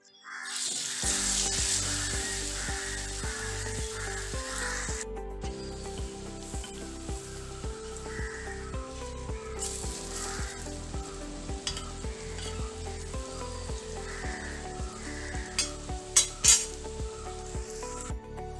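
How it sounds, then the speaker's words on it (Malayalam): Meat pathiri fries in hot oil with a continuous close sizzle and bubbling, joined by occasional stirring and utensil clinks against the pan. A few sharper clatters come near the end, with no talk. "നമുക്കിതുപോലെ അടുത്തതും പൊരിച്ചെടുക്കാം കേട്ടോ"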